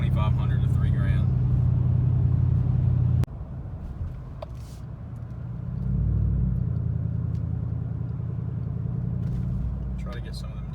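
A car with true dual exhaust is driven and accelerated hard, its exhaust drone loud at first, dropping off abruptly, then building again into a deep rumble from inside the car.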